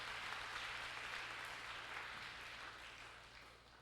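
A church congregation applauds in praise, a steady wash of clapping that fills the whole clip, loud at first and tapering slightly toward the end, with no one speaking over it.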